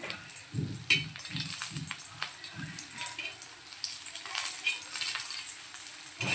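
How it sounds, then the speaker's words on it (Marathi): Three green chillies sizzling in hot oil in a pan beside cooked onions while making mutton boti fry, a steady, fairly quiet crackle with occasional louder spits and pops throughout. "त्यावरती तेल टाकूँ तीन मिर्चा टाकते"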